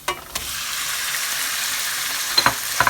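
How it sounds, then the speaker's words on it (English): Beef hits a hot pan of browned onions with a bang, then sizzles loudly and steadily as it sautés, with a few clinks of a utensil stirring near the end. "I'm going to put my beef in it."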